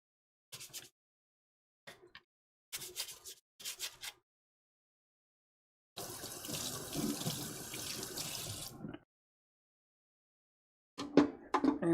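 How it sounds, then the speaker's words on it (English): Kitchen tongs rinsed under a running tap at a sink, a few short clinks and handling knocks, then a steady rush of water for about three seconds, followed by more brief clatter. "We'll rinse off our tongs as well."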